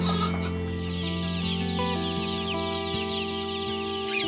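Chickens cluck on a farm community that raises poultry and pigs, a dense, continuous chorus of nearby birds with no talking.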